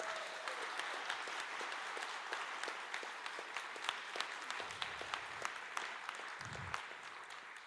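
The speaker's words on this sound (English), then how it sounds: "Give her a round of applause, please." An audience at a closing speech about the UN and diplomacy gives sustained, even applause, a dense crowd of clapping with a few louder individual claps standing out.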